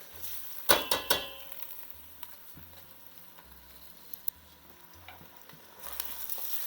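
Rice stirred in a pan with sweated onions for yellow coconut rice, a soft sizzle and patter with a few sharp spoon-against-pan clinks near the start.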